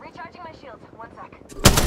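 Gunfire bursts out loud and close in the Apex Legends video game, a sharp, dense blast arriving suddenly near the end after a stretch of talk-like voice chatter.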